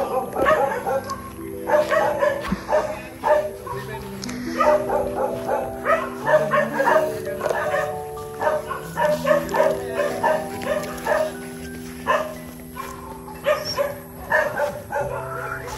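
Several dogs bark and yip repeatedly in excited bursts, fairly close, with whimpering tones between the barks.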